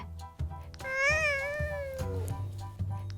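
A single drawn-out meow from a cat, rising then falling over about a second and a half, close and clear above a low background hum.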